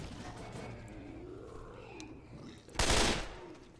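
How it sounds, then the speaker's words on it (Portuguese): A short burst of M16 rifle fire in the zombie shooter Left 4 Dead 2 cracks out loud near the end, after a few seconds of quieter game ambience. "O M16 eu consigo controlar bem."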